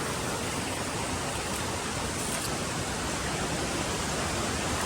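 A strong current rushes through a shallow rocky stream at Mother Falls. It makes a steady, dense roar of water that stays loud and even from start to end, with no voices.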